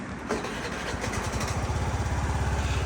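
A Honda Lead 110 fuel-injected scooter engine cranks briefly and catches, then settles into a steady, close, pulsing idle with a regular throb.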